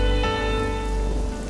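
Steady rain falls through a night scene in a Tamil TV drama, a constant dense hiss with a low rumble underneath, no voices over it.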